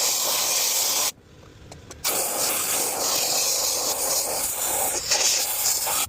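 Compressed air from a compressor blasts through a car's interior console under a towel in a loud steady hiss, cut off for about a second, then resumes strongly until the end.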